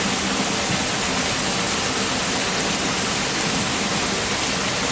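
Indoor waterfall at Gaylord Opryland Resort, a dense, constant rush of falling water heard close and steady without a break.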